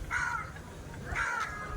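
Crows cawing at Vedanthangal bird sanctuary: two harsh calls about a second apart, fairly near, over a steady outdoor background hum.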